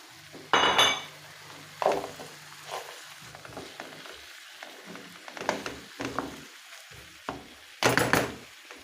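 Chicken drumsticks added to a pot of roasted potatoes, with a loud clattering of pieces dropping in, light sizzling, and intermittent clinks of a utensil stirring against the pot.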